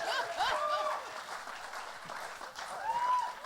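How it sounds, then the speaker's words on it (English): Applause from an audience at a live screening event in Richmix, London, a steady wash of clapping and crowd noise with a few whoops and cheers rising over it. "Give them another round of applause, please."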